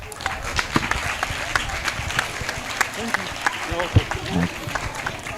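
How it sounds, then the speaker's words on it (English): Outdoor crowd applause at a community program on a cricket oval: scattered, sustained clapping mixed with voices and shouts from children and adults, fairly steady in level throughout. "another huge round of applause for Providence Bank"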